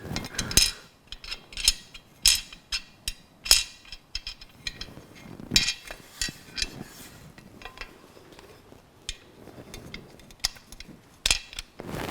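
A ratchet tightens T25 Torx bolts on the front fairing stay of a BMW S1000RR motorcycle, giving repeated short bursts of sharp clicking close by, with pauses between turns and no talk.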